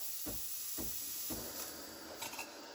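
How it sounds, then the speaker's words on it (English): A Breville Barista Express steam wand hisses steadily as it steams milk in a jug, with a few soft low thumps and no talking. "So the milk, once you start seeing steam, wait a few more seconds."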